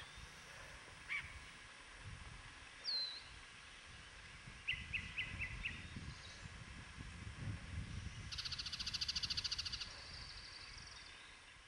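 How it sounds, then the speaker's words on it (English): A yellow-breasted chat sings an odd mix of whistles, short rapid notes and a harsh chattering burst, spaced out over quiet outdoor ambience. "you might hear the unusual song of the yellow-breasted chat."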